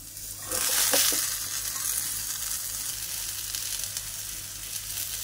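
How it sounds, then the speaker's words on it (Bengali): Eggplant, drumsticks and potatoes drop into hot oil with a loud burst of sizzling that settles into a steady, close frying hiss, without any voices. "এই বেগুনটাকে আগে দিলাম তেলের মধ্যে। এবার এই ডাঁটাগুলো দিয়ে দিচ্ছি, ডাঁটা আলু।"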